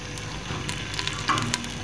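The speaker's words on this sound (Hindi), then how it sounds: "अब हम इसके अंदर एक बड़े साइज का कटिंग किया हुआ प्याज ऐड करेंगे" Large chopped onion frying in hot oil for kadhi pakora, a steady close sizzle with crackles and stirring scrapes, no talking.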